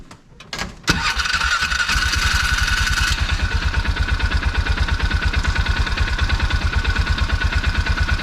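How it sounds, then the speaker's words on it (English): Bobcat 3400XL side-by-side, a Polaris Ranger 500, cranks and catches, then settles into a steady, loud, close idle with an even throbbing rhythm. "Let's start the bike."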